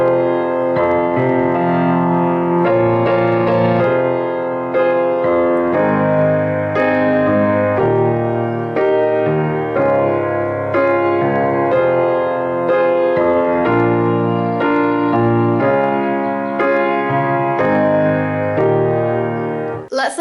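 Solo piano plays into the start of verse 2 of a song, both hands together in a steady flow of chords and melody, close and full, for about twenty seconds.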